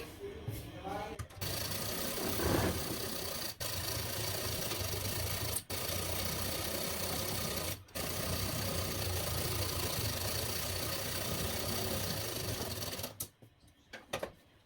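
Sewing machine stitching blouse fabric for a Bombay cut blouse, a steady close mechanical whirr running on for several seconds with brief pauses, then stopping near the end.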